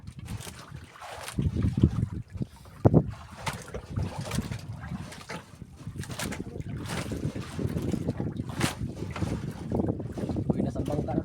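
Small fishing boat (bangka) on open water in wind, with steady engine or hull rumble and wind buffeting the microphone, a few louder thumps, while people talk faintly nearby.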